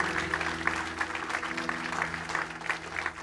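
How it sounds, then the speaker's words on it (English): Church congregation applauding during a service, moderate steady clapping with a sustained organ or keyboard tone underneath, fairly quiet and even. "Give the Lord a big round of applause."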